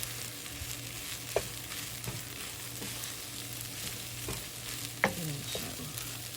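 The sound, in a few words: stirring fried rice in a frying pan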